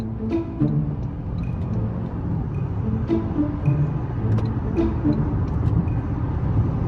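Small 4-cylinder rental car engine driving around town, a steady low hum and road rumble heard from inside the cabin, moderately loud and continuous with no talk.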